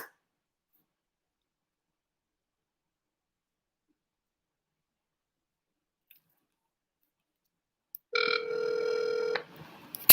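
A phone rings once briefly near the end of a long silence, a short electronic tone.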